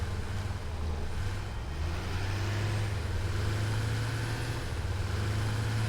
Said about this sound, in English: They have a good truck sound effect